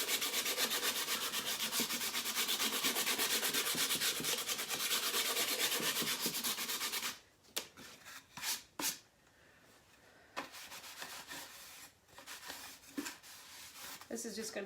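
Sanding by hand across a chalk-painted wooden kitchen sign, a steady dense rubbing for about seven seconds, then short separate scrubbing strokes with pauses, fairly close.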